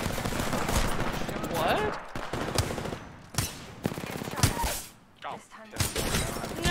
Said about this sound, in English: Opening fire on the enemy.